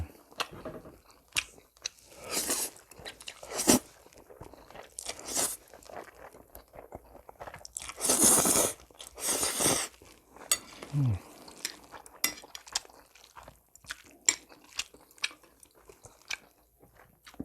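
Close, intimate eating of beef chapaguri noodles: slurps, chewing and crunchy bites come in separate bursts with quiet pauses and occasional clinks of cutlery against a bowl.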